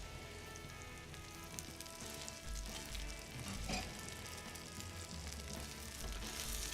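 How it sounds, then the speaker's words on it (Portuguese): Rice with melted butter and parsley fries in a skillet with a continuous soft sizzle and occasional stirring scrapes, close and quiet, with no talking. "E agora então a gente vai colocar o arroz aqui e finalizar ele na frigideira."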